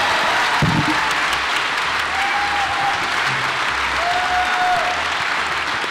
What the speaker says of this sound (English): Let's have one more round of applause for the wonderful film.